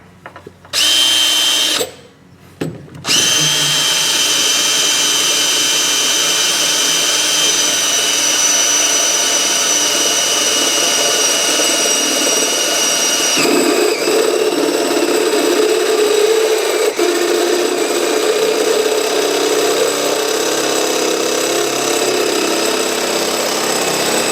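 A power drill whirs in short bursts, then runs continuously at high speed, a dull bit grinding steadily up close for a long stretch while boring a large hole through undercoating into the metal underbody of a 1968 Chrysler 300.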